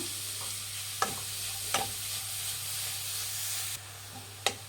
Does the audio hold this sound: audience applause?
no